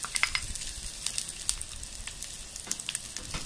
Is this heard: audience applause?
no